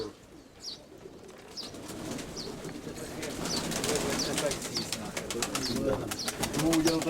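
Pigeons cooing in a pigeon loft, soft repeated low coos building in density alongside chirps and clicks, with people talking over them.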